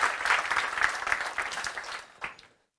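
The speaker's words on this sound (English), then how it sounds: "So give them a round of applause." Audience applause at a youth summit awards event, a dense burst of clapping that holds steady and then fades out over about two seconds, ending in silence.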